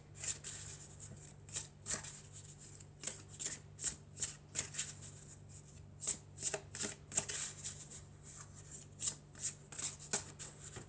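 Tarot cards shuffled by hand in a quiet room, with a continuous run of soft riffling and tapping bursts in an uneven rhythm, close and fairly faint, over a low steady hum.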